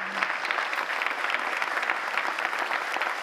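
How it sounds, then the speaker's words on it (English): Audience applause at a progressive political conference, a dense, continuous wash of many hands clapping at a steady level for the whole stretch, with no voices over it. "So big applause for Dominik."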